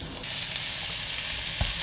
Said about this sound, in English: So even better, I'm heating it up in a pan.